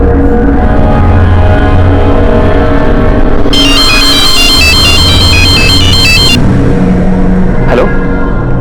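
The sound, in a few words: phone ringtone ringing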